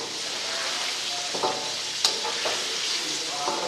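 Chicken frying in a karahi for Peshawar-style charsi karahi, a steady close sizzle and crackle of hot oil with a few scraping, clinking stirs of a spoon against the metal pan.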